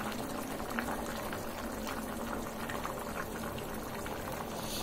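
Oil heating in a wok for making bhorta, giving off a dense, steady bubbling hiss that stays constant and loud throughout without any talking.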